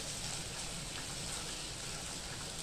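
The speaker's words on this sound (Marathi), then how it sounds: "आलं लसूण पेस्ट टाकूया. थोडासा कच्चापणा आलं लसूण पेस्टचा जाईपर्यंत थोडंसं आपण परतून घेणार आहे" Ginger-garlic paste sautés in a pan with browned onion, a continuous even hiss like light rain, held at a steady level throughout with no one speaking.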